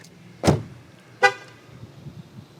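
Two short electronic chirps from an MG4 EV compact electric hatchback locking, spaced under a second apart, fairly close and clear over faint background noise.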